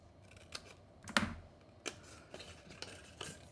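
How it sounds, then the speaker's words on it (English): Scissors snip diagonally along a score line on a paper gift box, a handful of quiet, separate crisp cuts spaced irregularly with nobody talking. "cutting from the top of that short cut diagonally to the next score line"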